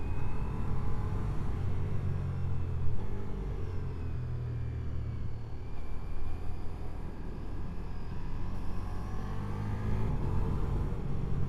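Continuous loud engine rumble and wind roar from a 2025 Ducati XDiavel V4 motorcycle being ridden on a foggy road, with steady throttle and slight swells in intensity throughout, no voices.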